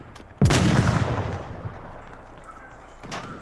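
A loud, close burst of rifle fire in the VR shooter Onward, with a sharp onset and a long rolling decay, followed by a fainter distant shot about three seconds later.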